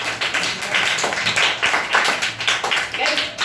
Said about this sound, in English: clap for Arav.